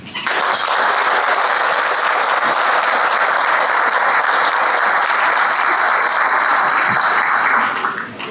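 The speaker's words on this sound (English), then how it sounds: "a huge round of applause for being such incredible leaders for our community" An audience gives a sustained, loud round of applause at a business awards gala of the Hellenic Canadian Board of Trade, dense clapping filling the room for about eight seconds before tapering off at the end.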